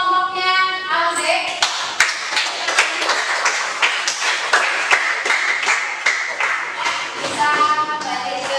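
A class of students applauds a student group in a school science lesson, a lively burst of clapping hands that swells and thins over several seconds, fairly close, with a few voices mixed in.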